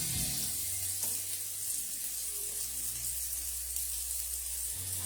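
Onions fry in a MasterChef pot for a stir-fry, a soft, even sizzle hissing steadily up close over a low background hum, with no talk.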